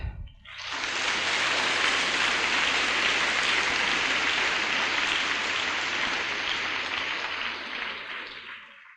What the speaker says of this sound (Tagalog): Ang lahat ng mga anak ng Diyos ay pumalakpak.